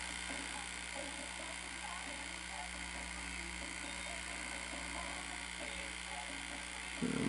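A Sony SL-S600 Super Beta VCR under repair plays a Fuji tape, giving a constant, even electrical buzz and mechanical hum that runs unbroken throughout, with a brief louder bump right at the end.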